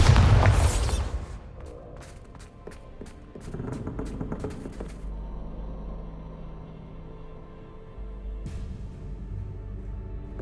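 Bombarda blasting spell from Hogwarts Legacy, a loud, close, booming burst at the very start that decays into scattered crackles and debris clatter, followed by a fainter thump later.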